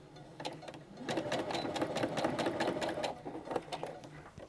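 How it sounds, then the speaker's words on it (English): A sewing machine stitches along the top of a fabric handle strap on a grocery tote bag, a fast continuous rattling whir that runs for a few seconds, close and fairly loud. "we're just going to stitch right down the top of that strap with the outside first"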